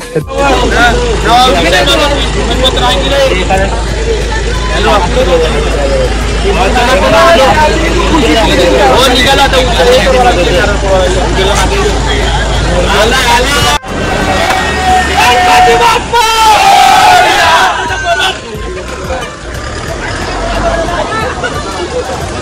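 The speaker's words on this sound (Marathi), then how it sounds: "तर आमची बस आता निघालेली आहे" A small public bus pulling away on a pilgrimage outing, its engine rumbling steadily beneath loud chatter and laughter from passengers packed inside, with a brief dip midway.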